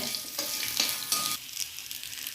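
Small onions, shallots, sautéing in a pan with a bright continuous sizzle, surging a few times as they are stirred, close and steady with no voices.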